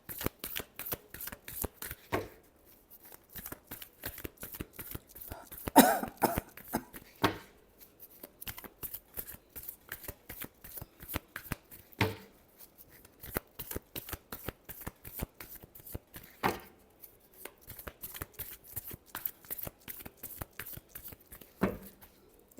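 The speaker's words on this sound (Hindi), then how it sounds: "last shuffle" Tarot cards are shuffled over and over in rapid papery riffles, with occasional sharper snaps and slaps, close and fairly quiet with no talking.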